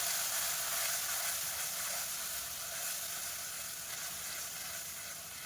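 Curry leaves with onion and garlic paste sautéing in a pan, giving a dense, continuous bright sizzle that holds steady and fades slightly toward the end, with no talking.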